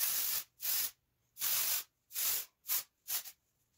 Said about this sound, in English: So this is an aerosolized powder